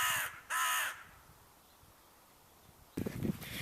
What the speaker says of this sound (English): There's one noisy bird.